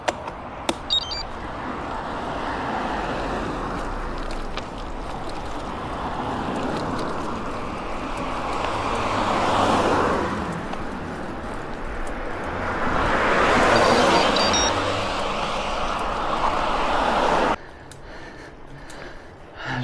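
Cars passing a cyclist on a climbing road during a long-distance ride stage, heard as broad rushing swells that build and fade twice, loudest near the middle and end, over steady wind noise.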